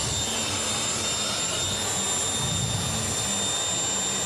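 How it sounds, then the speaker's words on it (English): Super modified pulling tractor on a pro pulling track at the Western Illinois Pro Pull in Mt. Sterling, Illinois, engine roaring at full throttle as a loud, steady, unbroken blast throughout, with no talk over it. "When that throttle drops, the noise goes insanely loud."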